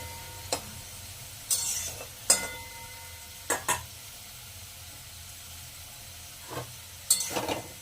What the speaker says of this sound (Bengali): আর এদিকে আমার আলু ভাজাটাও হয়ে এসছে, আর একটু হলেই নামিয়ে নেবো